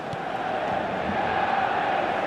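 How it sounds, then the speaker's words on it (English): Steady stadium crowd roar from the football video game eFootball PES 2024, a dense continuous murmur of many voices that holds level throughout without distinct cheers or chants. "Expectations rising, evidently the crowd hoping to be treated to a special contest"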